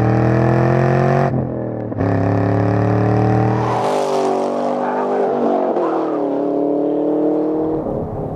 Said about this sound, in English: There's little flaps in the mufflers that open up and give you the full raspy V8 growl that you want.